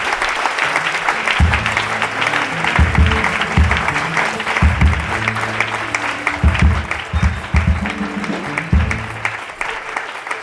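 A church congregation claps in praise of the Lord, a loud, continuous wash of applause lasting throughout, with irregular bursts of low musical or drum-like tones underneath.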